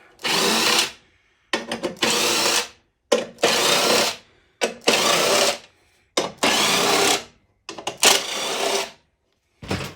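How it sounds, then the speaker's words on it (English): A small power drill with a small bit drills into aluminum above a crack, running in repeated short bursts, about seven, each a second or so, with brief silent pauses between, close and loud. "take a small drill bit and drill above the crack"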